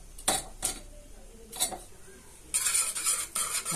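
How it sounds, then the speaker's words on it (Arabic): Spoon stirring yogurt in a bowl while making Egyptian feteer meshaltet, with scraping, clinking strokes in short bursts followed by a brisker, continuous run of mixing close by. "وهقلبها كويس قوي ببعض."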